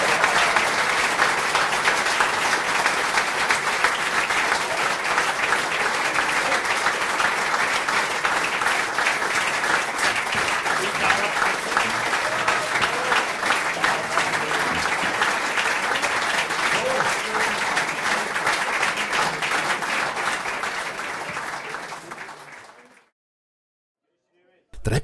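Long, dense audience applause at a Fasnacht comedy evening in Willisau, steady clapping from a large crowd that carries on for over twenty seconds before cutting off.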